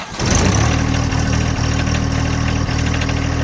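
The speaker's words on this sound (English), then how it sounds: "Try to get a cold start for you guys." A car engine cold-starts with a brief crank, then settles into a loud, steady, rumbling idle close by, with no talking.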